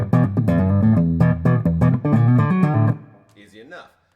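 A guitar lick played up close: a quick run of plucked notes with pull-offs that lands on a D, ringing for about three seconds before a brief spoken voice follows.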